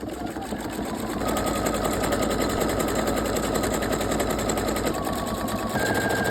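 A Pfaff sewing machine stitches around a corner of fabric, giving a loud, fast, continuous mechanical rattle of needle strokes that holds steady throughout with no talking.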